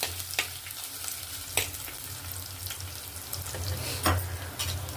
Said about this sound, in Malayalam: കടുകും ഉലുവായും പൊട്ടിക്കഴിഞ്ഞപ്പോഴേക്കും ഞാൻ അതിലേക്ക് അരിഞ്ഞു വെച്ചിരിക്കുന്ന ഇഞ്ചിയും വെളുത്തുള്ളിയും ചേർത്ത് കൊടുത്തേ.